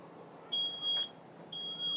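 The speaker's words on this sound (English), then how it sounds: "you saw how quickly the smoke alarm went off" A smoke alarm at a fire safety burn demonstration sounds in two piercing high-pitched beeps about a second apart, fairly loud over a faint background hum.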